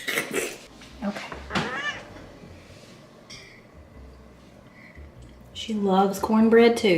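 A pet cat meows loudly and close toward the end, a drawn-out wavering cry that follows someone talking in a kitchen.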